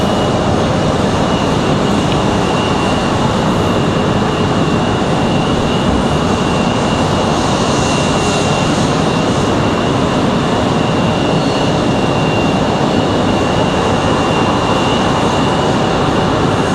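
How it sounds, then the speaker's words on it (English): Boeing 737 MAX airliner passing at Raleigh Durham airport, a loud, steady broadband jet roar with a persistent high whine that stays constant throughout, no voices. "Another MAX aircraft."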